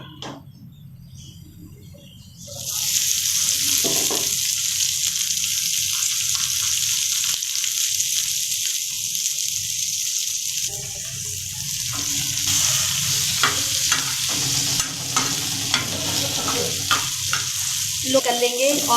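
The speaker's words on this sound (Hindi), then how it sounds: "हम उस पैन में ऑयल डालेंगे थोड़ा सा और अब सब्ज़ी को सौते करेंगे" Vegetables with chicken tikka pieces hit hot oil in a pan and sizzle loudly and steadily, the hiss starting abruptly after a quiet opening, with stirring scrapes and clacks near the end and no talk.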